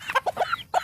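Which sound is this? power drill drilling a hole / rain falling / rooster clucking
rooster clucking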